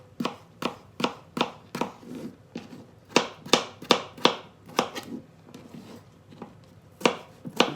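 Potatoes are diced small for hash browns, a knife striking a cutting board in quick, steady chops with brief pauses. The strikes are close and crisp, and no one speaks.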